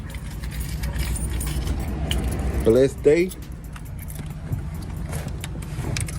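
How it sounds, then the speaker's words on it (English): A bunch of keys jangles briefly and close by inside a Chevy, a short metallic rattle amid a low vehicle rumble, with someone speaking. "So I gotta find my keys."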